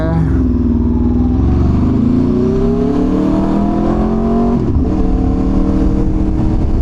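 An Aprilia RSV4 Factory 1000 cc sport motorcycle with a three-quarter aftermarket exhaust revs loud and close, its engine note climbing and falling in steady sweeps before dipping briefly and rising again.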